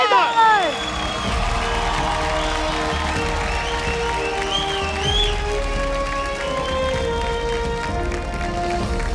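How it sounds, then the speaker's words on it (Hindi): An award-show audience claps and cheers for a Best Actor win, a steady crowd roar mixed with sustained music throughout. "अंगूठा तोड़ तालियां बजाएं"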